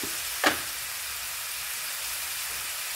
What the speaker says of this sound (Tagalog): Tapos ilagay ko na ang mackerel.